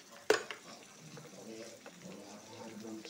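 Chopped onion and curry leaves drop into a hot pan for a bitter gourd masala, giving a sharp initial splash and then a soft steady sizzle with stirring, close and moderately quiet.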